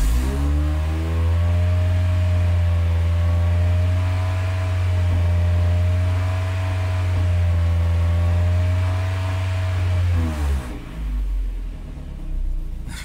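A car engine with a newly installed Spartan 2 wideband O2 sensor idles steadily and loudly with a slight roughness, its tone wavering slowly, before it shuts off near the end.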